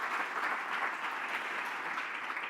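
Steady, dense applause fills a hall at the Premio Planeta 2017 literary award ceremony, holding at an even level throughout without any voices.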